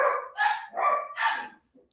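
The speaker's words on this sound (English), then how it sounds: "If I play Jules, they'll probably stop barking." Several dogs bark in a quick series of four or five close, loud yaps, then fall quiet.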